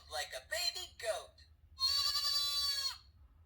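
A person's voice imitates a baby goat, a few short spoken syllables followed by one drawn-out, wavering bleat-like cry, close and clear.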